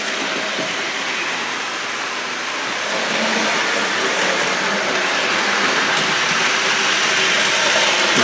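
An O-gauge model train on a public display layout circles its inside loop, a steady whirring rumble of wheels and motor that swells slightly louder partway through.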